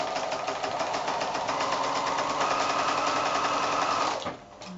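A sewing machine runs steadily, stitching a quarter-inch seam on a hexagon quilt with a fast, even mechanical whir heard close up, then stops near the end.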